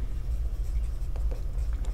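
Pen or pencil scratching across paper while working out a Class 10 maths trigonometry solution, a steady soft scribbling held close over a low background hum, with no voices.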